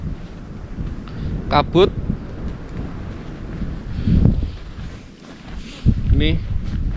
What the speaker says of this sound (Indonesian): Di luar badai, angin sangat kencang.